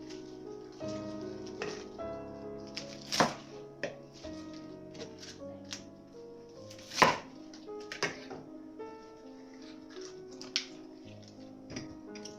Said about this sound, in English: And now I just want to chop it up.